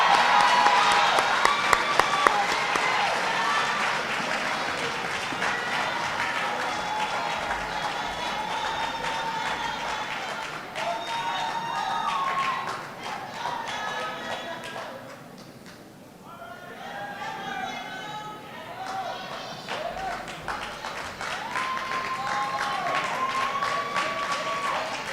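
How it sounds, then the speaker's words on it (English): Steady audience applause at a university oath-swearing and awards graduation ceremony, sustained clapping from a large crowd that dips briefly in the middle before swelling again, with some talk and music-like tones mixed in. "Let's give them a round of applause."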